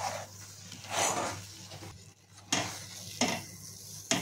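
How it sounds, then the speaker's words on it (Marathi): A spoon scrapes and stirs a thick gooseberry candy mixture in a pan with a soft, ongoing sizzle, sweeping strokes recurring roughly every second, close and fairly quiet. "म्हणून आपल्याला कंटिन्यू असं हलवत राहायचे।"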